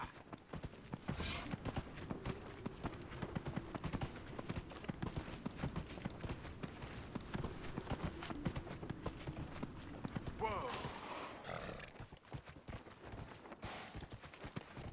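Horse hooves clip-clop steadily in a fantasy role-playing video game as a character rides, in a fast, even rhythm over a constant rumble, with no voices.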